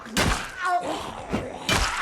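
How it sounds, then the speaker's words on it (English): Several heavy thuds from a character striking a wooden door in the zombie survival game Project Zomboid, close and loud, spaced across about two seconds with no talk over them. "So I hit the door to make some noise."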